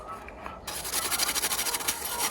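A brush scrubs dirt off the plastic shell of a Nintendo 64 being restored. After a quiet start, close rapid back-and-forth rasping strokes follow in a steady rhythm.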